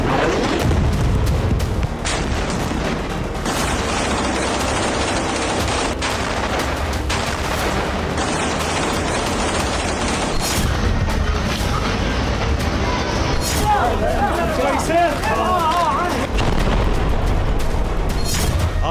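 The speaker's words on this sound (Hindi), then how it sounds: "दक्षिणी गाजा में फास्फोरस बम से विस्फोट शुरू हो गया" Bombardment in southern Gaza with phosphorus bombs around Khan Younis: loud, continuous booming and crackling bursts that overlap in dense volleys, close and heavy, with no voices heard.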